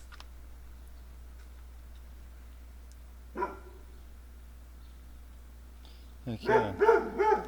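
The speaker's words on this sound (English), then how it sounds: "that's my dog" A dog barks a few times near the end, fairly close, at a tiny house built on a truck, after a mostly quiet stretch with a brief knock and a short spoken exclamation.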